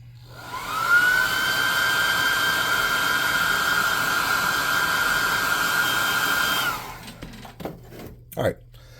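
Hair dryer blowing steadily on wet paint on a miniature demon figure, a loud continuous whine for about six seconds before switching off, followed by a few faint handling clicks.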